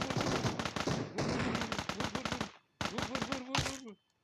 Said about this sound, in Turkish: Birisi seni vurdu karşıda.